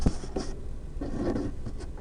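Pen or pencil scratches on paper as a problem is written out by hand, in close, quiet strokes with short gaps between them and no speech.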